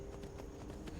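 Horse hooves clip-clop steadily in Skyrim, a rhythmic run of soft, regularly spaced hoofbeats at moderate distance over a constant low game ambience.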